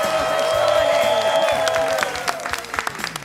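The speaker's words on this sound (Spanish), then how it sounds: "Este aplauso es para ti." A studio audience on a TV comedy show bursts into loud, sustained applause with some cheering, swelling then thinning into scattered claps by the end.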